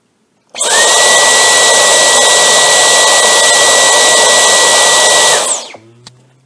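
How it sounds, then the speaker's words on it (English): A Dyson V11 Outsize cordless vacuum cleaner in boost mode spins up to a loud, steady high-pitched whine and airy roar, runs for about five seconds, then winds down, with a couple of small clicks afterward. "So I'm going to turn the vacuum on now."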